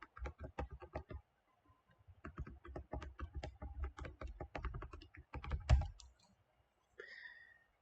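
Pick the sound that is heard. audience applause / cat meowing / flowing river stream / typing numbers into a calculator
typing numbers into a calculator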